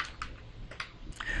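Quick keystrokes on a computer keyboard while entering an ADB command to copy files to an Android phone: a handful of close, crisp clicks in an uneven rhythm, with no talking.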